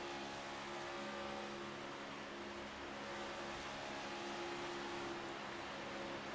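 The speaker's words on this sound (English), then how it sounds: "You can hear how Dwayne's got to kind of feather the throttle a little bit to stay off of the 24 car of Alan Holtzman" Race car engines in the iRacing sim at Talladega Superspeedway, a pack of NextGen Cup cars droning steadily at close range with a continuous, slightly wavering roar as the throttle is feathered, alone without talk.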